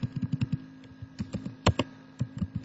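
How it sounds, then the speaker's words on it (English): Separate keystrokes on a computer keyboard tap out a short command on a Windows PC, with quick clusters of clicks, a few gaps and one louder key press, close and clear without speech. "what you want to do there is just type net"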